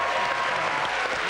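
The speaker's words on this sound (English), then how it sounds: "Applause for them. Give them a hand." An audience applauds the graduates team on a celebrity university quiz show, a short burst of steady, fairly loud clapping that fills the room.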